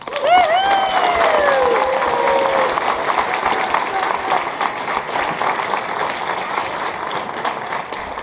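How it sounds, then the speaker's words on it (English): Parents and families applaud first grade students after a Christmas play performance, a loud round of clapping with a brief cheer early on that gradually thins out, with some voices mixed in. "Parents and families, let's give them one more round of applause"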